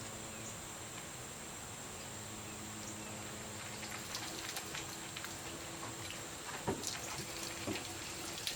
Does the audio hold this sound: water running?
yes